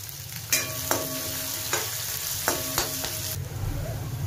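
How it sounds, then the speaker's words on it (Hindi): Small chopped onions fry in hot oil for a dhaba-style dal, a bright steady sizzle broken by several crisp spatula scrapes and taps against the pan. "ये छोटे प्याज मैंने कट करके रखे हैं, ये डालूंगी"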